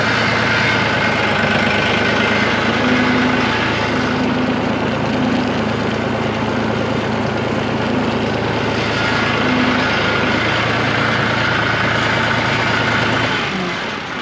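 A tractor engine idles steadily and loudly with the clutch pushed in while backing up, a deep continuous low rumble with slight vibration that holds for about thirteen seconds before easing off at the end.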